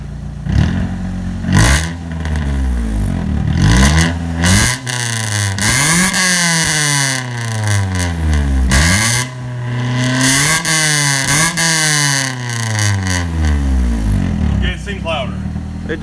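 A 2000 Honda Civic EX VTEC engine with a new O2 and speed sensor revs hard repeatedly, pitch climbing and dropping in loud bursts, with people talking over it between revs.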